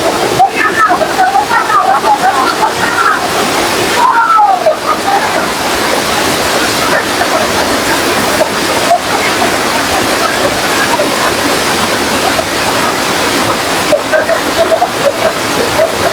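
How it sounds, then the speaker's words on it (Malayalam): Meenmutty waterfall at Kummil roars loud and continuous up close, a dense unbroken rush of falling water with faint voices buried beneath it. "അത് അടിപൊളി ഒരു വെള്ളച്ചാട്ടമാണ്."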